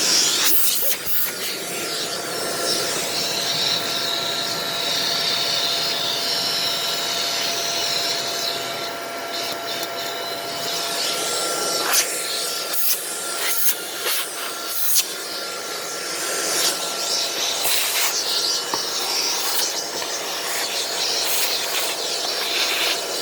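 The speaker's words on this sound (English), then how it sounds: "let's grab a vacuum and get some of that dust off." A Eureka vacuum cleaner runs continuously with a loud whining hiss, its pitch shifting as the nozzle moves and sucks up dust, with occasional clicks and rattles.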